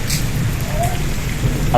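Steady rain falls outside a house where people are sheltering indoors, a continuous dense hiss of drops with no break from start to finish.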